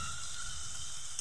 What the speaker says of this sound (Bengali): এটা দিয়েও আমি একটু ভাজা ভাজা করে নেব।